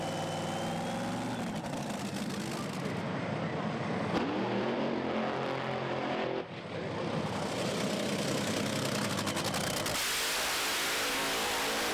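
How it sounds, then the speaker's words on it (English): Two Top Fuel dragsters fire up at a UK drag racing round, thunderous engines that roar and rev in sharp surges, very loud and close, with a sudden cut and a restart near the middle. "The OK to fire up the next pair is given Anita Mäkelä and Liam Jones."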